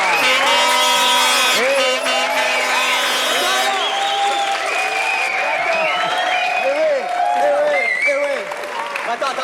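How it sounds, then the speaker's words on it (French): A studio audience on a French television game show bursts into loud, dense applause with some cheering. After a few seconds it gives way to lively talking and a few scattered claps. "qu'un tonnerre d'applaudissements se fasse entendre jusqu'au rocher de Monaco"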